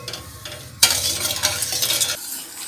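Sugar syrup for jalebi being stirred in a pan while it cooks, with a spoon scraping steadily and a louder sizzling burst partway through, then quieting toward the end.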